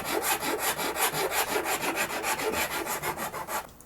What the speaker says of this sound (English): Let's clean this up a little bit while we've got the shinto out.